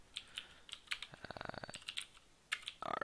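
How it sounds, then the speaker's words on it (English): Rapid bursts of keystrokes on a computer keyboard while entering code for a DLX architecture simulator, close and clear, with short pauses between runs of clicks and a denser flurry near the end. "or a lot of boring typing."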